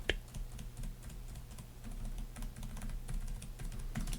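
Typing on the low-profile, snappy keyboard of a 2026 Lenovo Yoga Slim 7x laptop: steady, quick key clicks at close range, soft overall, with no voices.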